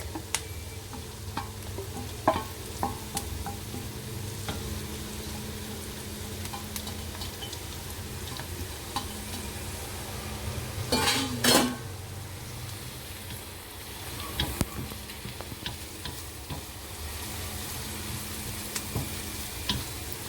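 Minced garlic and onions frying in a pan, a continuous close sizzle under repeated spatula scrapes and taps, with a brief louder clatter near the middle, no talking.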